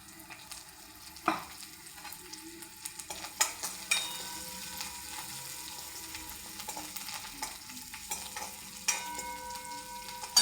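Mustard seeds, cumin and curry leaves sizzle and crackle in hot oil for a tempering, a steady close frying hiss with scattered pops and a few stirring scrapes, no talk.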